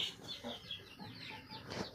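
Hens and a rooster in a backyard coop cluck faintly and repeatedly, the short calls overlapping in a quiet, uneven patter.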